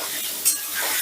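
Potato pieces fry in oil over medium heat with salt and turmeric, a short soft sizzle close by with a small clink partway through.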